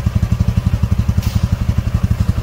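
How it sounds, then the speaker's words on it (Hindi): Royal Enfield Classic 350 single-cylinder engine idling after its first service, a close, loud, evenly paced thumping beat with a light clatter. "एक बार इंजन बीट भी सुन लीजिए"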